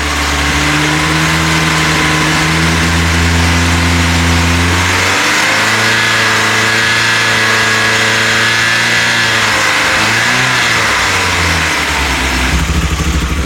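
A Volkswagen Golf GTI with a 1.8 16-valve engine running test camshafts revs loudly and steadily, its tone climbing, dipping and rising again through a droning resonance, close up and with no talk.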